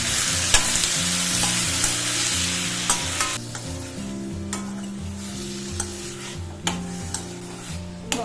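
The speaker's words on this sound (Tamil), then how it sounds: "ராட்டை சேர்த்து நல்லா வதக்கிடலாங்க." Prawns stirred and sautéed in hot oil with softened onions in a pan for Chettinad prawn kulambu, a steady close sizzle broken by sharp scraping knocks of the spoon against the pan.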